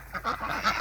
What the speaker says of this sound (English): I'm sorry these ducks are so loud.